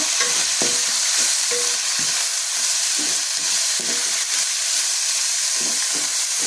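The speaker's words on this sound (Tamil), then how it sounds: "சேர்த்து நல்லா வதக்குங்க." Chopped banana flower is sautéed in a pan, with a loud, constant sizzle close by and repeated scraping strokes of a spoon stirring it in an uneven rhythm.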